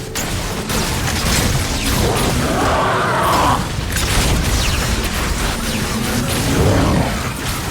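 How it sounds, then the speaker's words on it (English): A rechargeable explosive weapon detonates again and again in the zombies mode of Infinite Warfare, loud booming blasts and crashing impacts rolling together in a continuous, heavy wall of sound. "it's a recharger explosive weapon"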